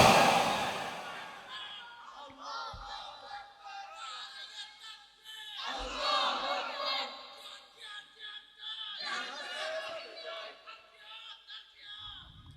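A crowd at an Islamic religious gathering in Satkania, Chattogram, shouts takbir in unison, in several loud, rising bursts separated by short pauses, with a reverberant public-address sound throughout.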